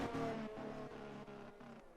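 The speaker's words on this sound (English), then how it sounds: "Sampa's doing the SSR donuts in Kota" Car spinning donuts in a racing video game, engine droning in a steady tone that rises and dips in pitch as it circles, fairly quiet and without talk.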